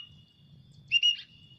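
A brief, faint bird call from a burung pallow, a short pair of clear whistled chirps rising over a low background hum, followed by quiet.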